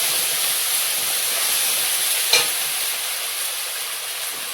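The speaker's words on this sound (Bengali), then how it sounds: "পাঁচ ফোড়ন তেলে পেঁয়াজ কুচি, একটু আদা রসুন বাটা," Chopped onion and ginger-garlic paste fry in oil tempered with panch phoron, a steady loud sizzle and hiss close by with a brief stir clatter midway, no voices.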